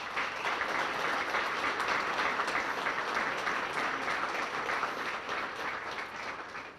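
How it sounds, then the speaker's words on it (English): Sustained applause from a large crowd at a chamber of commerce dinner, steady and dense for several seconds before tapering slightly at the end. "please join me in a round of applause to thank each and every one of these sponsors"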